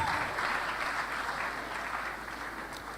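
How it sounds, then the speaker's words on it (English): An audience at a medical graduands' induction ceremony for the College of Health Sciences at Nnamdi Azikiwe University claps for the university, a dense, steady wash of applause that fades slightly toward the end. "You have to clap very well for Nnamdi Azikiwe University."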